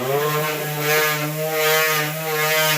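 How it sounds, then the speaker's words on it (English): An old mini mouse detail sander with worn sandpaper runs in a steady, loud, continuous motor whine with a buzzing rasp, holding the same pitch throughout with no talking. "Got my little mini mouse sander I've had for 100 years"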